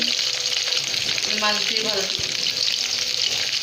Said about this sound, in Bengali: এখন তেলে ভাসতেছে হালকা মাছ ভেজে নিচ্ছে